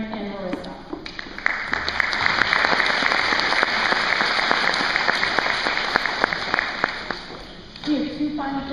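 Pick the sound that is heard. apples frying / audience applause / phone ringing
audience applause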